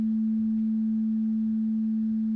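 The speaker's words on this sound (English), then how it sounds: "Decreasing the amplitude makes it softer." A soft, low-level pure sine wave tone sits steady at one pitch, quiet and unchanging from start to finish.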